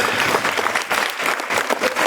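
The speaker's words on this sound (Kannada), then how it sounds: "ಎಲ್ಲ ಎದ್ದು ನಿಂತ್ಕೊಂಡು ದಯವಿಟ್ಟು ಚಪ್ಪಾಳೆ ಹೊಡೆಯಿರಿ" A standing audience applauds performing artists and teachers at a stage event, dense sustained clapping from many hands, loud and continuous throughout.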